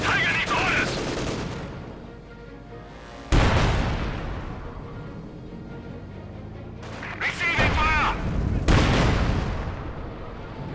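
Battle sounds from the video game Company of Heroes 2: heavy artillery booms and bursts of gunfire as a tank and field gun trade shots, loud impacts at intervals with a rumbling battlefield din between them.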